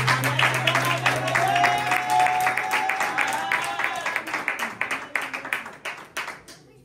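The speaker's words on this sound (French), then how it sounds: "Applaudissons pour le roi des rois." A crowd at a gospel church service claps continuously, loud at first and then thinning into scattered claps as it fades, with a voice speaking over the start.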